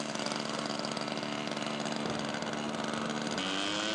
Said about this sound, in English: Taxiing out for takeoff.